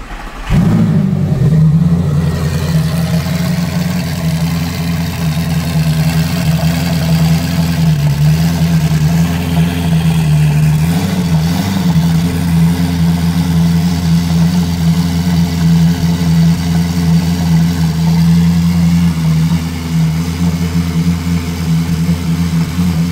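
An Audi R8 engine catches after a fresh battery fit and settles into a loud, steady, throaty running note close by, holding almost unchanged for the rest of the stretch with no talk.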